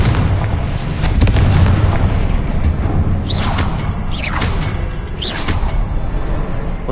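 Repeated Confringo spell blasts in Hogwarts Legacy rumble and crack through a continuous barrage of booms, with several sharp whooshing streaks cutting across loud, sustained explosive noise.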